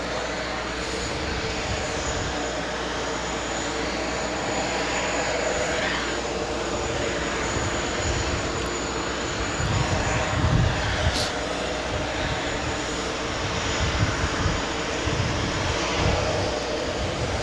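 A Virgin Atlantic Airbus A350-1000 jet passes at JFK airport, a steady broad roar with a low rumbling undertone that swells slightly toward the middle and end without fading away.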